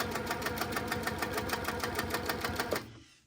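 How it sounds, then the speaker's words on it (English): A sewing machine stitches around a quilt bauble with a fast, steady run of rhythmic close stitching clatter that stops abruptly near the end. "I'm going to stitch my way around the bauble, which will secure it."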